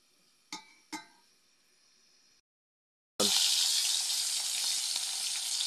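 Freshly caught, spearfished fish parts hit hot oil and break into a loud, steady sizzle that runs alone after a couple of clinks and a brief pause.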